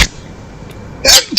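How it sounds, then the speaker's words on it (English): A person sneezing close to the microphone, a short sharp burst followed by a second quick sneeze just after, against a quiet background. "hold on, I have to sneeze"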